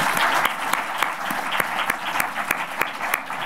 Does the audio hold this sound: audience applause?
yes